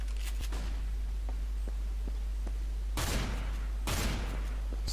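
Counter-Strike: Global Offensive gunfire: a couple of loud, sharp shotgun blasts about a second apart, with scattered lighter shots and clicks earlier over a constant low hum.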